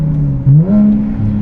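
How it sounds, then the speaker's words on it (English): A turbocharged car brake-boosting at 14 psi of boost, the engine droning loudly and steadily close by, its pitch rising briefly then holding a strained, even tone before dipping slightly at the end. "keep in mind, 14 pounds of boost. I'll do a little bit of a brake boost here."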